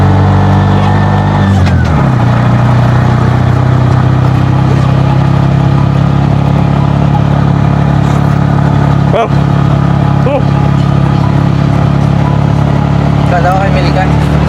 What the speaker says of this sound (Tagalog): ganyan kalakas ang Bajaj RE guys. Napakalakas sa ahunan.